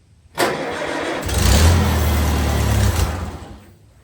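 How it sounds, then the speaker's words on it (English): A John Deere M tractor engine cranks and catches, then runs briefly at a loud, rough, low idle for a couple of seconds before faltering and dying away. No one speaks. "I usually try to start it without the choke and go from there."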